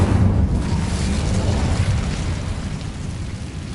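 An Incendio fire spell goes off in a wizard video game, a loud, sustained roaring burst of flame with a deep rumbling body that fills the whole moment.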